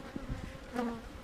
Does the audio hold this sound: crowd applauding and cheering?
no